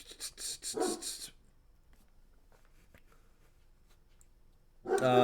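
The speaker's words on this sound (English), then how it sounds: "I hear Riddick barking" A dog barks in a short burst of several yaps, falls quiet for a few seconds, then starts barking again nearby.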